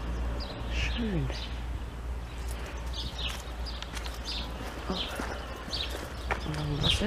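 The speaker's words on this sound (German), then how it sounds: "Hier üben sie mit den Pferden." Horses being exercised walk along in the village of Lamspringe, their hooves clip-clopping in an irregular outdoor rhythm at moderate distance, with birds chirping over a steady background hum.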